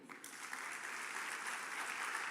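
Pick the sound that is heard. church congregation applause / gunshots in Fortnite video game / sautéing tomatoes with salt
church congregation applause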